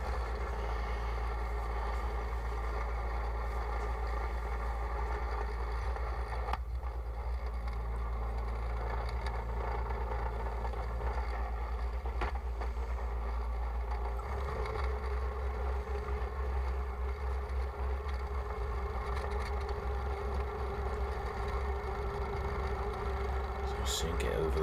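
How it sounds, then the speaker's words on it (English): An MTD T/450 rotovator engine tilling soft allotment soil, a continuous, loud mechanical drone that labours and dips in pitch under load, running steadily throughout with someone talking over it. "Here, really pulling the engine down doing some of this because it's really soft there."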